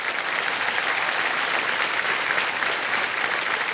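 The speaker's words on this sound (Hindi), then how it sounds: "एक बार जोरदार तालियां बज जाए जिग्ना जी के लिए।" Studio audience on a televised quiz show breaks into sustained, loud applause, a dense even wash of clapping from many hands lasting throughout with no break.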